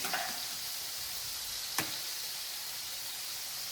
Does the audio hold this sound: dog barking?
no